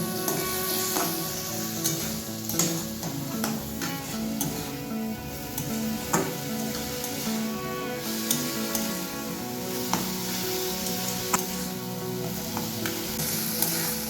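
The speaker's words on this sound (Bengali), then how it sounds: "আরও মিনিট খানেক নেড়ে নিয়ে দিয়ে দিচ্ছি টমেটো কুচো। সবটাকে খুব ভালোভাবে মিশিয়ে নেব।" Chopped tomato sizzles and fries in a hot pan while a spatula stirs it, steady frying hiss broken by repeated scraping clinks and taps against the pan, with no talking.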